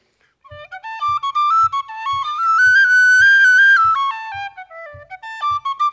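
A whistle played solo in a traditional folk style, a bright melodic line rising and falling with an improvised, shifting rhythm and soft regular tonguing taps, close and clear with no talk.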